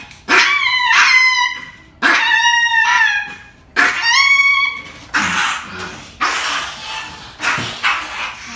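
Indoors at a pet grooming salon, a dog barks in three loud, close bursts of several yelping barks each, followed by softer whimpering yips.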